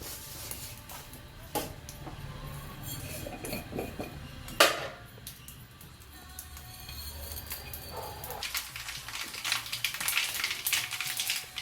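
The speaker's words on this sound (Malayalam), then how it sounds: "കടുക് പൊട്ടി" Scattered crackles and pops from mustard seeds bursting in hot oil, mixed with occasional clinks of a utensil against a pan, close by.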